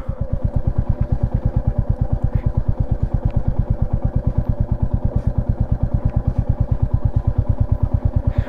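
Motorcycle engine thumping in a fast, even rhythm at low revs while riding slowly downhill on a slippery mountain road toward Darjeeling, using engine braking; loud and close, with no talk.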